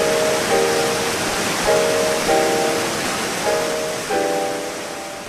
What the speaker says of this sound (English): The waterfall comes leaping and thundering down a rocky ravine.